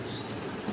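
A pigeon beats its wings in a short, quick flurry of soft flapping close by, lasting under a second with no talk.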